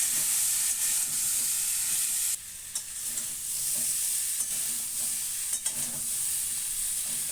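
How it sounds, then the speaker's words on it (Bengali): Pumpkin curry sautéing in a pan with turmeric and salt, a steady bright sizzle broken by repeated scraping stirs of a spatula, close and continuous with no talking. "তিন থেকে চার মিনিট কষিয়ে নেবো"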